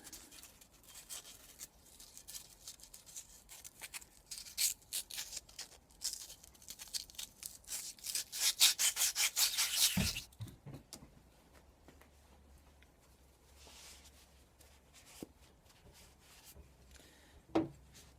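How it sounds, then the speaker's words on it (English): Scrubbing corrosion from the bore walls of a Yamaha XT600E rear brake caliper: quick rhythmic rubbing strokes build for about ten seconds, then stop, leaving a few faint handling knocks and clicks. "remove the corrosion that's on the walls there. Same with this."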